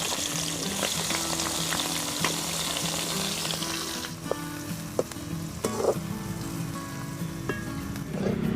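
Sliced onions frying in hot sesame oil for a masala fish curry, a loud, continuous sizzle with crackles and pops, close by and alone.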